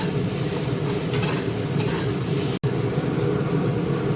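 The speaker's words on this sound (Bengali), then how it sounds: "তো এই যে এখানে পোহা আর এবার পেঁয়াজটা খুব লাল করে ভাজিনি, এর মধ্যে এবার চিড়েগুলো দিয়ে দিই।" Onions and flattened rice frying in a pan for poha, a continuous close sizzle with stirring noise and a momentary dropout midway, no talk over it.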